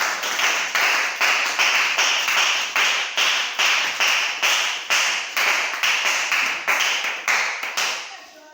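A church congregation claps in praise of the Lord, sharp unison claps in a steady fast rhythm, loud and close, continuing evenly for the whole stretch before trailing off.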